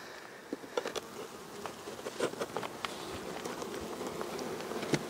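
Honeybees from a strong colony hum around the hives in a soft, steady drone, with individual bees buzzing close by in short, brighter passes.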